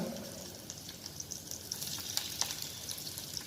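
Celery and roughly cut onion cook in a pan for broad bean soup, giving a soft, steady sizzle with faint crackles, quiet and continuous.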